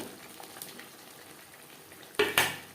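Potatoes cooking with spices in a pan for an alu paneer curry, a spoon scraping and clinking against the pan in two sharp strokes near the end over a faint steady background.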